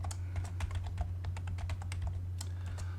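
Keys click in quick, uneven succession on a computer keyboard as a short AutoCAD command is entered, close and clear over a steady low electrical hum.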